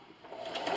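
A sewing machine runs in a short burst while stitching a fabric keyboard wrist rest, its motor hum rising slightly in loudness, close and steady with no talk.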